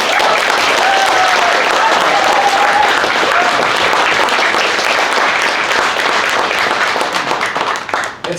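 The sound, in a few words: audience applause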